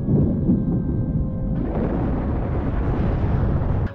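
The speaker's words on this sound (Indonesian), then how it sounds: "Sebuah ledakan besar terjadi di wilayah pemukiman padat penduduk." A large explosion in a densely populated residential area: a deep, rumbling blast roars continuously and loudly, a dense low boom that swells slightly partway through without fading.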